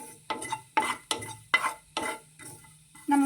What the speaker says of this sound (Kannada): ಎಲ್ಲವನ್ನೂ ಜೊತೆಗೆ ಹಾಕ್ಕೊಂಡು ಹುರಿತೀನಿ